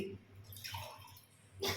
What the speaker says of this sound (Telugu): ఒక మూడు గ్లాసులు వాటర్ పోసేసుకుందాము